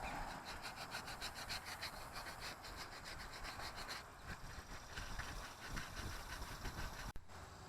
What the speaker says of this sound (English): I'm going to take some 180. Let's go around lightly sand.